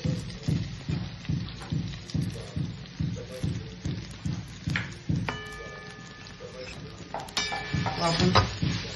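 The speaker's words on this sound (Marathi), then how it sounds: "छान मस्त मिडियम गॅसवरती त्याला भाजून घेतो." Grated fresh coconut roasting in a spoonful of ghee in a kadai over a medium flame, for modak filling: steady rhythmic scraping of a spoon against the pan over a soft sizzle, with a couple of brief ringing tones partway through.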